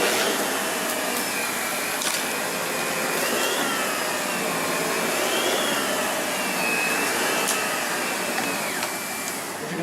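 A Lindhaus HealthCare Pro HEPA vacuum cleaner running on carpet to pick up cleaning powder, a steady loud whirring motor drone with a shifting high whine and occasional clicks, no talk.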